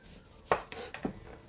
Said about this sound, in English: So I'm going to hold this cucumber with a bear claw, and when I slice,